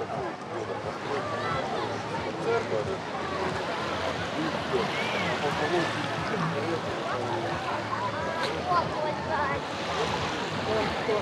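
Sea surf rolls onto Anapa's central beach on an overcast day, the murky water near shore full of seaweed, making a continuous rushing wash of waves mixed with wind buffeting and a voice over it.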